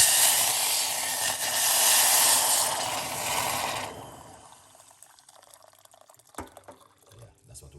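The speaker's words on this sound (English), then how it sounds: "Let's pour some hot water in it." Hot water pours into a cup for garlic lemon tea, a loud rushing stream for about four seconds that stops abruptly, leaving faint drips and a small clink.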